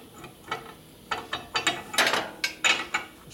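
A ratchet and socket turn the bearing nut on a 1972 Harley-Davidson 1000cc Ironhead Sportster, giving several quick bursts of crisp clicking, close and fairly quiet, with short pauses between pulls.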